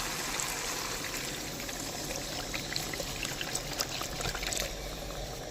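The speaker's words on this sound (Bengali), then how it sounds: "এর মধ্যে আমি একটু জল দিয়ে দিচ্ছি" Water is poured into a pan of simmering chili chicken gravy in a village-style kitchen, a quiet steady trickling and splashing stream of liquid heard alone at low level.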